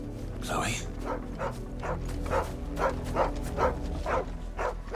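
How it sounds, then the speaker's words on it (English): A dog in the video game Final Fantasy XVI gives a series of short, fairly soft barks and yips in a loose rhythm, heard over a low game ambience. "It's a dog, it's not Chloe."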